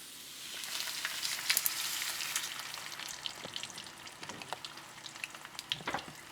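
Onion frying in oil in a small skillet, a steady close sizzle and crackle with occasional stirring clicks, no talk over it.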